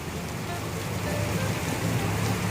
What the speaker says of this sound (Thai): มาก็มาตอนฝนตกครับทุกคน